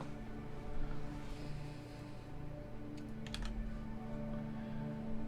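Typing on a computer keyboard at a desk, with faint soft keystrokes and a brief flurry of sharper clicks midway, set against a low steady background hum.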